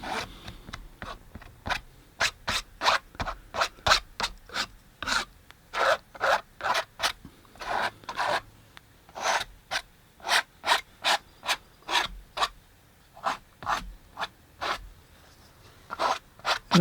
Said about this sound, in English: scrape off a little bit of really super thick paint that I see